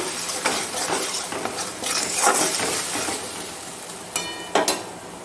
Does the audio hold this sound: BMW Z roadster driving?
no